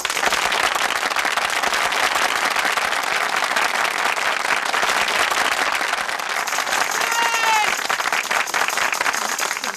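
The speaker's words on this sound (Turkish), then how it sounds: "Alkış." Dense, sustained applause from a large crowd fills the space, steady and loud throughout, with a few whistles near the end.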